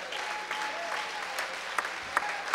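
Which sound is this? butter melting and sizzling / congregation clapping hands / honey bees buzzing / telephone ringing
congregation clapping hands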